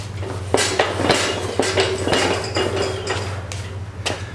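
Metal clanks and clinks as a seized bolt is worked loose on the spindle of a 1960s go-kart, a series of sharp strikes and scrapes over a steady low hum, close and fairly loud.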